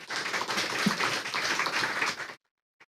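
Applause from a conference audience at a youth and women's peace leadership event, steady dense clapping for about two seconds before cutting off abruptly to near silence.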